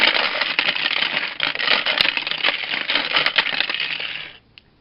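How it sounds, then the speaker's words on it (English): A Kyuranger Kyulette wheel toy spun by hand, giving a loud, dense plastic rattle that clatters steadily for about four seconds before cutting off abruptly. "it's very noisy when you turn it around"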